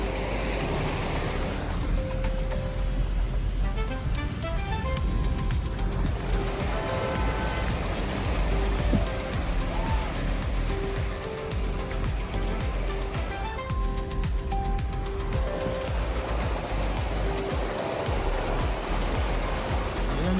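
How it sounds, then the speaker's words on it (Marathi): Loud, continuous roar of floodwater from a river above danger level, filling a parking area and surging like ocean surf, broadband and steady with wind noise, no voices. "समुद्राच्या लाटा अशा"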